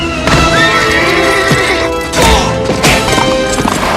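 Hooves clatter busily amid a loud, chaotic scene with crashes and thuds, a horse whinnying over the commotion.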